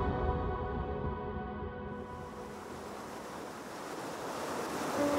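A fast, powerful river in Chilean Patagonia rushes past with a steady, loud broadband roar, close by and continuous, with wind buffeting the microphone and no voices.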